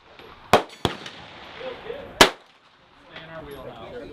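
Suppressed AR-10 rifle firing, three sharp muffled reports spaced unevenly over a few seconds, each a brief loud crack with quick decay, over faint outdoor background noise.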